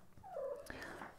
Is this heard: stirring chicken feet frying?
no